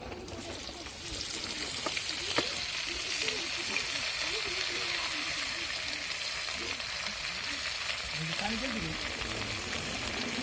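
Cumin seeds frying in a pan give a soft, steady sizzle with a faint crackle, heard under someone speaking nearby.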